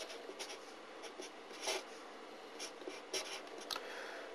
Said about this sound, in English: So I'm going to be needing the formula that's got these two letters in. So let's write it down.